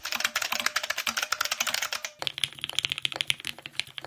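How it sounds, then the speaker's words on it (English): Dense, rapid keyboard typing, a steady clatter of close keystrokes that shifts to a slightly different, crisper tone about halfway through, with no voices. "why not put out a vinyl of just like typing sounds?"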